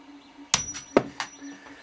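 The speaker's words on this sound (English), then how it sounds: "Use bolt cutters." Bolt cutters snipping through 5mm diameter steel rod, with two sharp, loud metallic snaps about half a second apart followed by a softer third click, close up with no talking.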